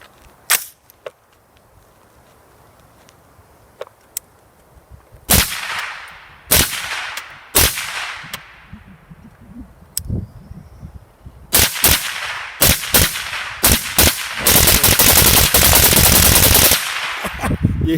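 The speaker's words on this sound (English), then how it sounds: "Justin now has his Franklin Armory Gen 3 BFS with supersonic 300 blackout. Let's see how this runs suppressed" Suppressed 300 Blackout rifle fire from a gun with a Franklin Armory Gen 3 binary trigger, heard as scattered sharp cracks at first that build into fast paired bursts of shots, loud and close.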